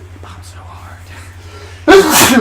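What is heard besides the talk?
sneeze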